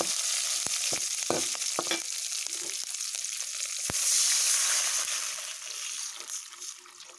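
Chilies hiss and sizzle in hot oil in a pan as the base for a rice-vermicelli noodle soup. A steady close frying crackle runs throughout, broken by a few sharp clinks and scrapes of stirring, and the sizzle swells near the middle.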